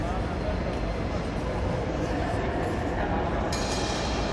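Inside a large, grand European train station, a steady dense ambience of echoing crowd murmur and indistinct voices fills the hall, with faint clinks and rail-station rumble.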